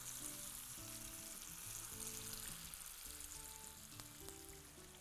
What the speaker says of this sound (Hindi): गैस कर दीजिए धीरे और पनीर को सिकने दीजिए अच्छे से।